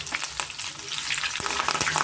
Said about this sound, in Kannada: ಒಣಮೆಣಸಿನ್ಕಾಯಿ ಮತ್ತು ಬೆಳ್ಳುಳ್ಳಿ, ಕರಿಬೇವು ಇಷ್ಟನ್ನು ನಾವು ಫ್ರೈ ಮಾಡ್ಕೊಂಡಿದ್ದಾಯಿತು.